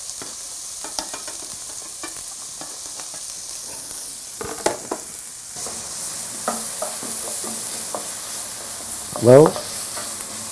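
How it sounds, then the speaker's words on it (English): Onions sauteing in a pan for a sweet potato and okra masala, a steady soft sizzle with occasional stirring scrapes and a louder clatter near the end; a voice briefly speaks. "you can see our onions now, they're sauteing"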